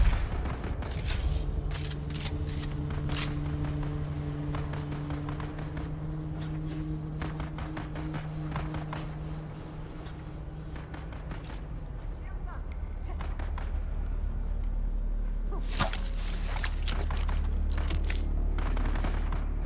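Gunfire in the Dune video game, with irregular volleys of sharp shots over a constant low rumble and droning tones, moderately loud and continuing throughout, with a dense burst near the end.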